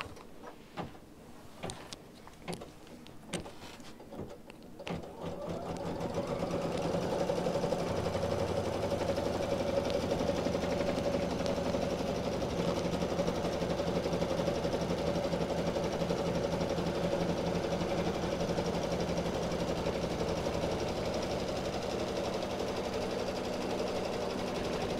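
An embroidery machine stitching a design in a quilting shop, a steady fast mechanical whir and needle clatter running continuously after a few clicks and taps at the start.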